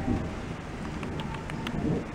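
Rain falling outdoors with a soft steady patter and faint rumbling thunder in the background, fairly quiet and with no talking.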